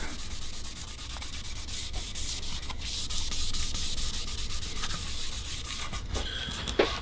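A lacewood guitar body being sanded: continuous close, gritty rubbing strokes at an even level, with no talking.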